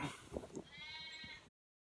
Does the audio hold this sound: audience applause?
no